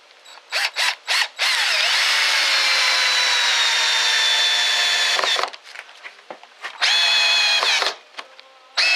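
A Black & Decker 20 volt drill in first gear whines loudly as it drives a big screw, starting with short trigger bursts and then running in long sustained pulls broken by pauses and a final brief burst.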